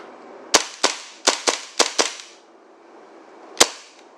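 Hi-capa airsoft BB pistol fitted with a changed, heavier slide, firing seven sharp snappy shots close up, mostly in quick pairs, with a last shot after a short pause.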